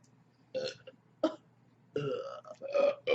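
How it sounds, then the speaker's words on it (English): A person burps several times in separate bursts, the last ones longer and louder, close to the microphone with no talking. "Burp."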